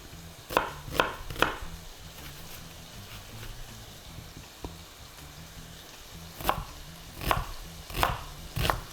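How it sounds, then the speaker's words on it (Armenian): A knife chops red onion on a cutting board in quick bursts of three sharp, close strokes, a quiet pause with faint sizzling in the background, then another run of steady chops. "Սոխը մարացնում եմ։"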